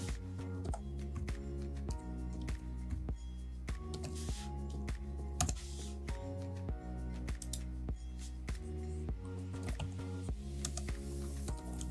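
Rapid typing on a computer keyboard, close and clear, with irregular bursts of key clicks and short pauses between strokes.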